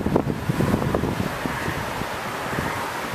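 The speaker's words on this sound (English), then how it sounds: "Sorry about the wind." Heavy wind buffets the microphone, producing a loud, continuous rumbling roar with gusty bursts.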